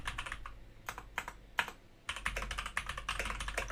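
Rapid keystrokes clatter on a computer keyboard nearby, in uneven bursts with short pauses between them and no voices.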